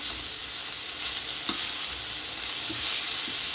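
Dal being stirred with oil and salt in a pot, a steady soft scraping and bubbling hiss throughout, with one brief sharper clink partway through and no talking.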